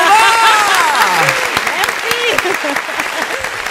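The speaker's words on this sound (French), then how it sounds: "On peut les applaudir, les applaudissements." An audience claps for Aurora, a loud burst of applause that fades while people keep talking over it.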